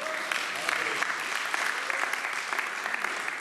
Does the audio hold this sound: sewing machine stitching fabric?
no